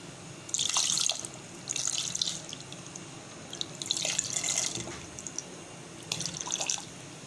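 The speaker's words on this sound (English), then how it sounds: "Now I'm gonna add the water." Water is poured into a pot of dal with tomatoes during cooking, arriving in four separate splashing pours with brief pauses between them at moderate volume.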